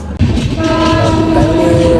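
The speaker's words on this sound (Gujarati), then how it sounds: "સ્ટેશન આવ્યું ગાડી ઊભી રાખી છે" A passenger train from Bhavnagar to Haridwar, stopped at a station, rumbles with a sustained horn-like tone ringing over heavy low-frequency noise, loud and close throughout.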